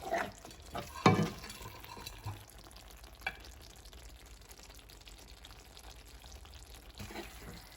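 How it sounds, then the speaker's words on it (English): Blackened salmon and sauce are spooned onto pasta, giving soft scraping, clinking spoon hits and wet sauce sounds, with a few sharper clicks early on and quiet sizzling underneath. "now we're gonna spoon everything on top of the pasta"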